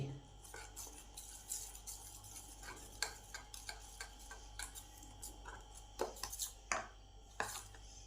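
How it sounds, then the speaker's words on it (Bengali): Gram flour batter with pea pod peels being mixed by hand in a bowl, giving a run of soft, irregular ticks, taps and scrapes, fairly close and quiet over a low steady hum. "এবার এই বেসনটাকে এর মধ্যে ভালো করে মিশিয়ে নিলাম"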